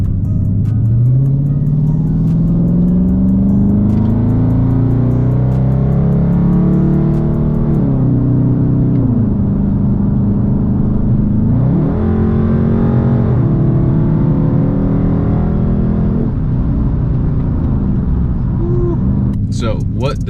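A Dodge Charger R/T engine revs up through an acceleration pull, its steady rising drone filling the cabin with pitch climbing and easing as gears change, loud and close throughout.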